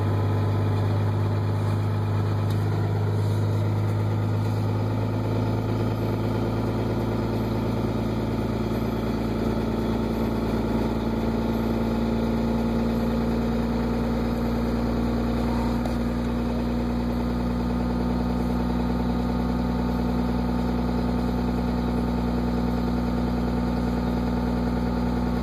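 A Cummins 24-valve diesel engine settles into high idle after a cold start, a steady close-up rumble with strong low harmonics and a slight shift in pitch partway through, heard alone throughout.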